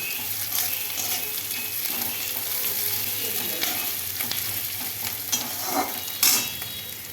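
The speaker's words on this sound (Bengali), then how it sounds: "এখন পেঁয়াজটা একটু লাল লাল হালকা বাদামি রঙের করে ভেজে নেব" Onions frying in mustard oil until light brown, a continuous close sizzle with occasional stirring scrapes and one sharper knock near the end, and no talking.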